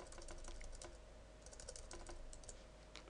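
Typing on a computer keyboard, a quick, steady run of light clicks close by over a faint background hum, with no voices.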